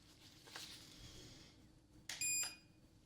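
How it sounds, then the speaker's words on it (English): Soft rustles and handling noises lead into a short electronic hearing-test beep, a thin high tone that sounds briefly and fairly quietly, as if from a little distance. "so the beep sounds a little different and it's gonna be further away"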